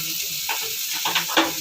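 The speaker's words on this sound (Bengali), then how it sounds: "এবার আমি এর মধ্যে জল দিয়ে দিচ্ছি।" Hot water goes into a potato and drumstick masala frying for a fish curry, with a brief burst of sizzling and a few quick spluttering crackles over a soft hiss.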